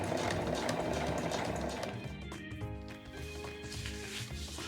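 A sewing machine runs steadily for about two seconds while stitching along a zipper edge, then stops and leaves quieter handling noise. No one speaks.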